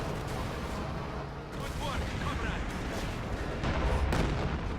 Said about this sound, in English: Su-85 fire